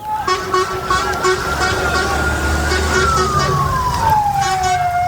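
An ambulance siren wails loudly and continuously near a Gaza refugee camp after a strike, its tone holding steady, then sliding downward as the vehicle passes, over traffic and street noise.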